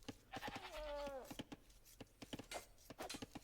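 A single wavering goat bleat in Age of Empires II, rising and falling for about half a second near the start, heard under fast, continuous commentary.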